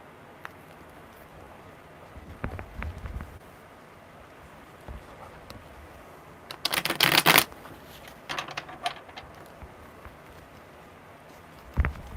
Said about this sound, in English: That was a really funky shuffle.